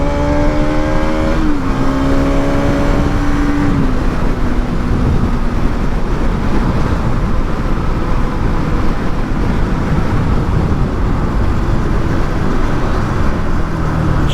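A Bajaj Pulsar NS 200 motorcycle engine on the move, a loud, constant drone with heavy wind rush and a brief rise and fall in pitch early on, with no voices.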